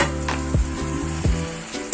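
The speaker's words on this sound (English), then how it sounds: "So I'm going to start frying the vegetable." Vegetables frying in oil in a pot on a gas stove, a loud continuous sizzle with a few stirring scrapes and clinks, close up and without talk.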